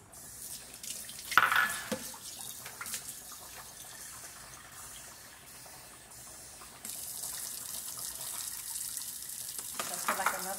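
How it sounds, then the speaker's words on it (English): Water is poured into a cooking pot of simmering food, a brief splashing burst followed later by a steadier, louder stream of running water near the end. "I have to put more water in here because I still have a whole bunch of other stuff to put in there."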